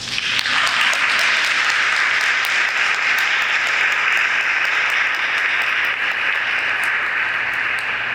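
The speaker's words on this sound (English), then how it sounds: "You can clap." Sustained audience clapping at a public health talk, dense and steady for the whole stretch, fairly close and loud, with no talking over it.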